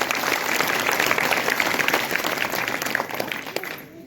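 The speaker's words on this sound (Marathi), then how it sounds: "त्याबद्दल एकदा गावकऱ्यांसाठी जोरदार टाळ्या होऊन जाऊ द्या." Loud, dense applause from a village crowd fills the whole stretch, steady and sustained before easing slightly at the end.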